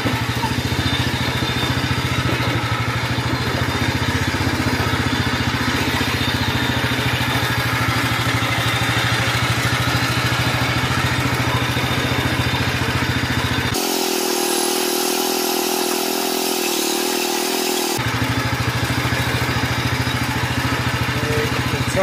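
A 1970-72 Sears Compact 7 lawn tractor creeps along in first gear over rocky ground, its engine a steady, close, continuous drone with a brief stretch where the low rumble drops out before returning. No one speaks.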